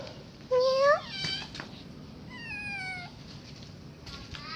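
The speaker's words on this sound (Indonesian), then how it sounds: "dan ada kucing" A cat meows nearby, with a loud rising call followed by a longer, softer meow and a faint third one, over low outdoor background noise.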